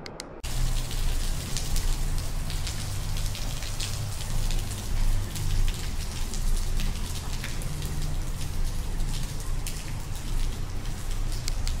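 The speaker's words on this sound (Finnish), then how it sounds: "mutta hyvä, että sataa vettä" Steady rain pours down outdoors during a thunder-season storm, a dense, loud hiss of drops with heavy low rumble underneath, continuous and without talk.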